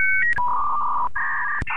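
Touch-tone telephone keypad being dialed for a call: a short run of steady dual-pitched beeps, each held a moment with brief gaps, clear and close with no talking.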